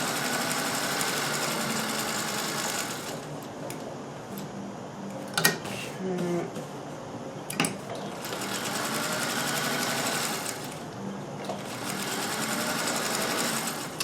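A Singer 201K sewing machine reverse-stitches silk scraps for a cravat, its steady mechanical whir starting, pausing with a few clicks and knocks in between, then running again, loud and close.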